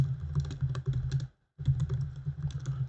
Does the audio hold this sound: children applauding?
no